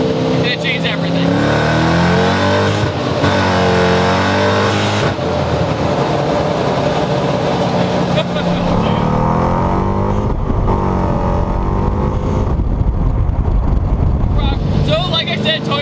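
A supercharged 1UZ V8 swapped into a Toyota Celica drones loudly at highway speed, with a steady engine roar and supercharger whine that shift in pitch as the throttle changes, under spoken commentary.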